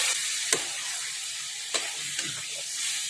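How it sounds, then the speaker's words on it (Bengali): Spice paste with fried pointed gourd sizzles in a cooking pan, a constant bright hiss from the oil with a few soft stirring clicks and no talking. "এই যে পটলগুলো ফ্রাই হয়ে গেছে আমার। এখন মশলাটা কষিয়ে নিয়েছি।"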